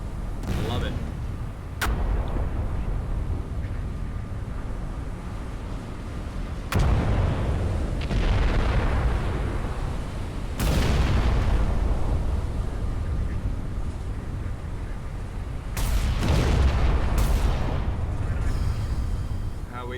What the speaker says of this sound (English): these guns are firing like crazy